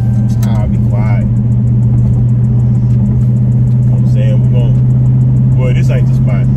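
A car fitted with an aftermarket intake hums at a steady low drone while driving, its engine tone constant underneath people talking over it throughout.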